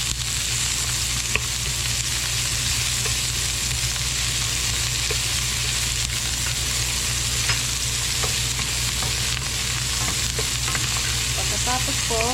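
Onions frying in a small amount of oil in a pan, a steady dense sizzle throughout with occasional light clinks and scrapes, close and fairly loud with no talking.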